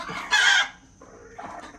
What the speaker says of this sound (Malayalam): ഫുൾ ബോക്സിൻ്റെ ഉള്ളിൽ കോഴികളാണ് അതൊരു റാക്ക് സിസ്റ്റത്തിലാണ് നമ്മളിപ്പോൾ അത് അട വെച്ചേക്കുന്നത്